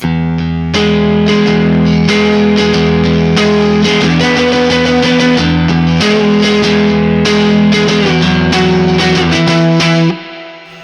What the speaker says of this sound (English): Didn't do anything to the reverb, just turned it on.